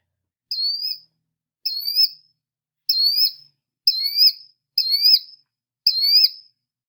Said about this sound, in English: this killdeer call is not as good as some of the other ones